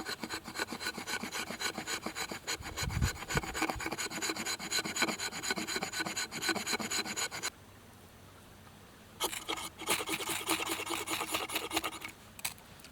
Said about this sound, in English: now I'm making some fine shavings with the back of my knife